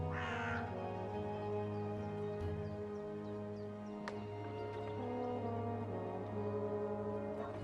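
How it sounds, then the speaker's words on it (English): A talking bird in Dreamfall Chapters gives a harsh crow-like caw at the start, heard over a sustained low droning game soundtrack. "Go look for that goddamn bird over there"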